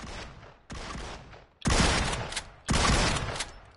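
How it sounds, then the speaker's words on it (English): Double gunshots in PUBG, four loud reports in quick succession, the later two heavier and each trailing off in a short echo. "Yeah, this is overpowered. You hear that? Yeah, you could shoot it twice at once."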